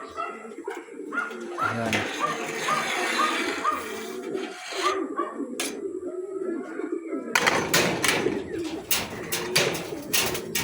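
Racing pigeons coo softly in a loft, low repeated coos mixed with wing rustles and shuffling, while someone speaks briefly near the start.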